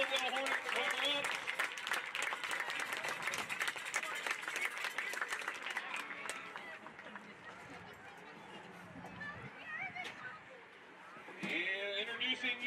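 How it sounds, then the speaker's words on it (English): A crowd at a 4th grade AA youth football championship applauds the Hilldale Hornets runner-up team, a broad wash of clapping and cheering that thins out midway and returns, with voices mixed in. "Let's give a big round of applause for the Hilldale Hornets runner-up."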